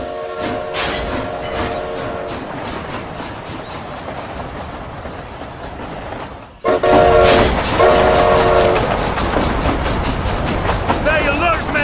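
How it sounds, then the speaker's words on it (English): A steam train in the Red Dead Redemption Undead Nightmare game rolls along loudly and continuously, with rhythmic mechanical clatter and a brief whistle tone, a short pause midway before the rumble resumes; voices speak over it. "This train headed for Mexico?"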